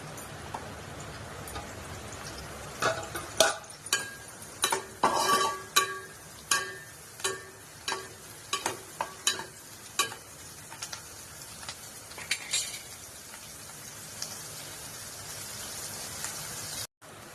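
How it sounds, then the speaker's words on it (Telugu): Hot oil sizzles steadily as curry leaves, green chillies and onion are fried for tempering, with sharp pops and crackles bursting out in quick succession, then thinning out toward the end. "ఇప్పుడు కరివేపాకు, పచ్చిమిరకాయ, ఉల్లిపాయ వేసి తాలింపు అయితే పెట్టుకుంటున్నాను"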